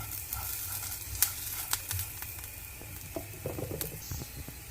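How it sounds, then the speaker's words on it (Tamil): Onions sautéing in a pan with dals for ragi semiya upma, a steady soft sizzle with close stirring scrapes and a few sharp clicks of the spoon against the pan. "வெங்காயம் ரொம்ப சாஃப்டாக வதங்கணும்னு இல்லை, ஓரளவுக்கு இந்த மாதிரி கொஞ்சம் வதங்கினா போதும்."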